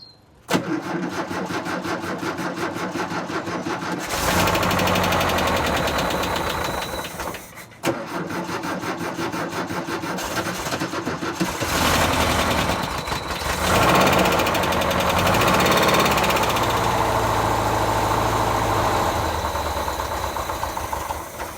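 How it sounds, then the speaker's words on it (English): A VW T25 (T3) van engine cranks and catches, then settles into a loud, close idle with a mid-pitched rumble, dips briefly as if about to cut out, and then picks back up and keeps running, with no talking. "I think the idle just needs adjusting."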